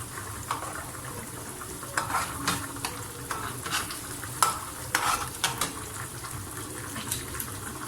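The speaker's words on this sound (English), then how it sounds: "now that your onions are frying" Onions sizzle and crackle steadily in a frying pan, with occasional stirring scrapes and soft clicks, close and moderately quiet.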